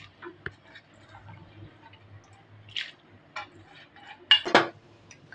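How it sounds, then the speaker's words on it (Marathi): Dry moong dal tipped into a pot of boiling water gives a short, close clatter and splash near the end, after scattered light clinks of utensils over a low simmering hum. "आता ह्यात घालायची मूग डाळ."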